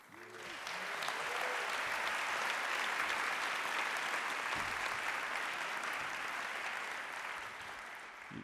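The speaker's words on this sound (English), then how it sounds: "You get to applaud yet again" An audience at the Montgomery College presidential inauguration of Dr. Jermaine F. Williams gives sustained applause, a thick, even roar of clapping holding for about eight seconds before tapering, with faint voices at the start.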